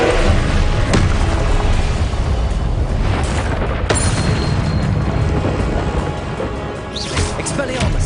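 A loud, continuous rumbling blast from the Confringo curse in Hogwarts Legacy, with deep booming surges and sharper impacts layered over constant heavy noise.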